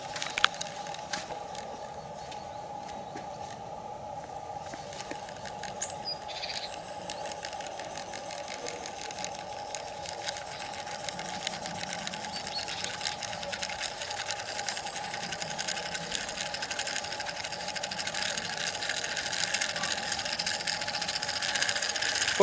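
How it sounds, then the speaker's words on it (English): A working gramophone spring motor with its mechanical speed governor spins steadily, a continuous close whirring hum with fine rapid ticking and light rattle, gradually growing a little louder over about twenty seconds with no talking. "Here is footage from another spring motor which is still in working condition, so that you can witness that mechanical speed controller"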